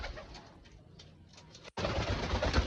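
A Chocolate Bombai pigeon, a Dobaz Bombai bird in a home loft, gives soft, low coos close by before a sudden burst of loud rushing noise swamps the sound.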